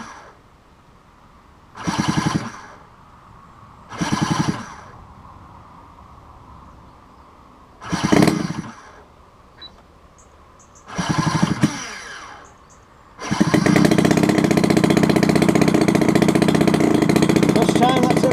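A brand-new DLE35RA gas engine on a Hanger 9 Beaver RC plane with auto start cranks in four short loud bursts, then catches and runs with a steady, loud, buzzing roar.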